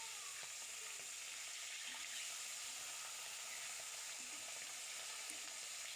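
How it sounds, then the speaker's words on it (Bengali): Fish heads fry in a pan for a potato ghonto, giving a steady, faint, even sizzle that runs on with no break. "আমি মাছের মাথা নিয়েছি, এখন ভালো করে মাথা ভেজে নেব।"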